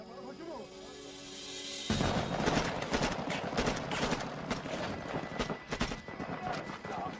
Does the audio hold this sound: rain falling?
no